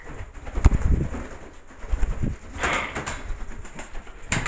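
Pet bird, pigeon or dove type, giving several soft coos and rustling bursts, close by, with no one talking.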